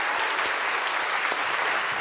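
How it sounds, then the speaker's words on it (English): An audience at a science talk on food and energy gives a steady round of applause, dense and continuous throughout, with no voices on top. "Big round of applause."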